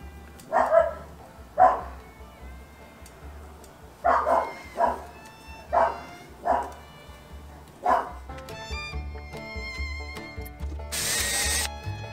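A small black chihuahua barks in sharp single yips, about six spaced across several seconds, fairly close and moderately loud, followed by a stretch of clattering, whirring mechanical noise with a brief harsh burst near the end.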